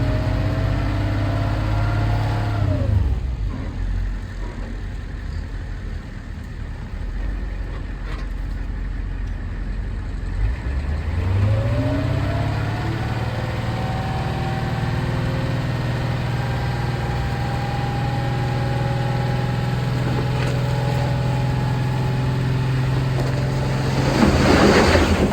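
An International dump truck's engine runs steadily, idling at a low drone, then revs up briefly and settles again. The sound is loud and close, with no voices.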